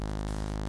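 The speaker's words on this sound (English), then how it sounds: "This is an awesome oscillator, and it sounds like this." A synthesizer oscillator holding a steady, buzzy, harmonically rich tone, fairly faint and unbroken, with no other sound.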